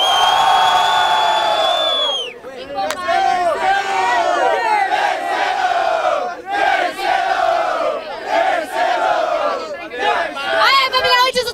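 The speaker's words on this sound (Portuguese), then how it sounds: "Barulho para Marie. Barulho para Ravena." A large crowd at a rap battle in Barueri, Brazil roars with cheers and shouts, loud and sustained, briefly dipping then surging again in waves of whoops and yells.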